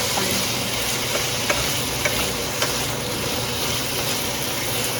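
Meat being fried for lunch, igado-style, sizzles loudly and steadily in the pan, with light clicks and scrapes as it is stirred and no talking.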